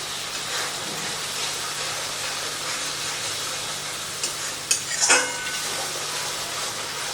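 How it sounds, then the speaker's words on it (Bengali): Masala with cashews frying in a pan under a constant hiss of sizzling, with a few brief spoon scrapes and clinks near the end. "যেহেতু কাজু বাদাম আছে সেই জন্য কিন্তু অনবরত এটাকে নাড়াচাড়া করে যেতে হবে।"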